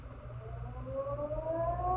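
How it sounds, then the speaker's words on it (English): San Francisco's ferry building siren sounds over downtown at eight o'clock, a distant civil-defense style wail rising steadily in pitch over a low background rumble. "The next morning, just as the ferry building siren was announcing 8 o'clock to downtown San Francisco, I got Rembrandt on the phone."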